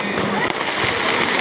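Fireworks go off at a Dussehra Ravan Dahan celebration in Jodhpur, a dense, loud crackling wash of bursts with no pauses, set against a noisy outdoor crowd atmosphere.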